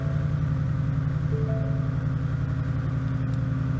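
Ford Mustang S550 with an XForce exhaust, valve closed, idling: a steady, deep, muffled burble runs loud and close throughout without revving, with a faint tick near the end.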